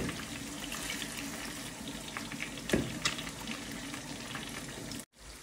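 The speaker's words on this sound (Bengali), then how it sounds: "তো এখন আমি হাঁসের মাংস পানি দিয়ে দিলাম।" Water is added to duck meat cooking in a pan, a continuous bubbling, frying hiss with a brief louder splash partway through, heard close before a sudden cut.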